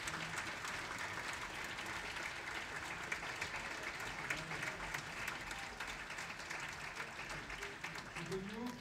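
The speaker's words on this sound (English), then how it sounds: "Let's give him a round of applause." An audience at a Grenoble event marking the anniversary of Muhammad Yunus's Nobel Peace Prize breaks into sustained, even applause from many hands, filling the room without a break.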